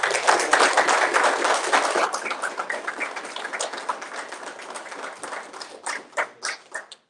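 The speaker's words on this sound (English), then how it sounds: "Can we give her a round of applause?" A council meeting audience gives a round of applause for a long-serving employee: dense, loud clapping that thins over several seconds into a few scattered, separate claps before fading out.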